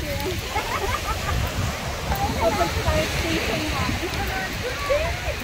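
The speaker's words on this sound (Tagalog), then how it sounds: "naririnig nyo ba yung dagat?" Sea waves washing onto the shore at Nasugbu, Batangas, a steady hissing wash of surf, moderately loud and continuous, heard while walking along the beach with people talking nearby.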